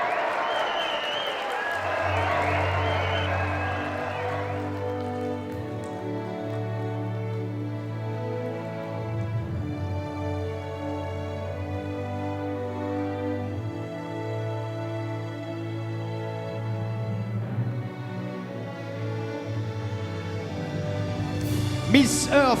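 Audience at a Miss Earth Réunion 2019 pageant in Mauritius applauding the winner, steady crowd clapping under loud, sustained background music throughout.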